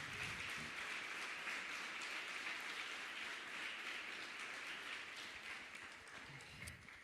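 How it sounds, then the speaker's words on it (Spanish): A church congregation applauds at a Sunday service, a steady dense wash of clapping from many hands filling the room, holding evenly and easing slightly toward the end with no voices over it. "Denle un gran aplauso al Señor."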